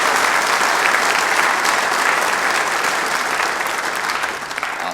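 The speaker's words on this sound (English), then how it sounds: "can I get a round of applause for all this cool stuff" An audience at a tech conference session breaks into loud, dense applause that continues steadily for several seconds, then thins out at the end.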